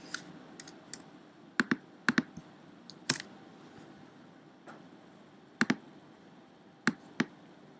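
Typing on a computer keyboard: a few scattered key taps and clicks, sparse and fairly faint, with a quiet room hum between strokes and no talking.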